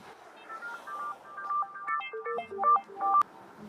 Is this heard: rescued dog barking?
no